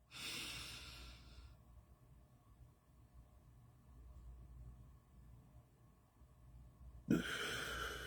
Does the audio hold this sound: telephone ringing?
no